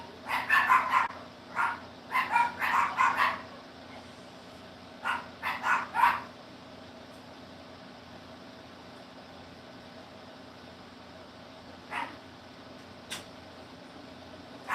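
Several dogs bark in quick bursts, clustered at first, then sparser single barks further apart, at moderate distance over a quiet background hum.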